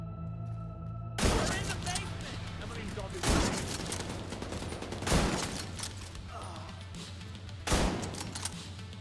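Gunfire in The Division 2, four sharp bursts of shots spaced a couple of seconds apart over steady game ambience, with a voice talking faintly in the background.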